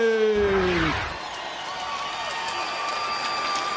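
A large arena crowd at an MMA event roars and cheers continuously for Stipe Miocic's early heavyweight fight. The loud, dense noise is briefly preceded by an announcer's drawn-out voice.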